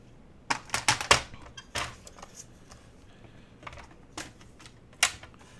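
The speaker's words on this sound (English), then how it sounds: "So let's cut 2 or 3 strips at 4 3/4." Paper strips being cut for a handmade 3D book box card: crisp, close snips and clicks in a quick irregular cluster, then a few isolated cuts, with no talking.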